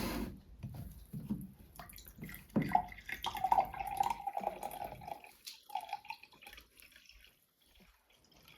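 Lipton drink is poured into a cup nearby, with a soft trickling stream rising in pitch as the cup fills, preceded by small clinks and handling sounds, all quiet and without talking.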